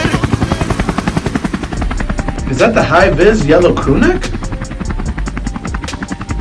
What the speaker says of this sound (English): Is that a helicopter? It is!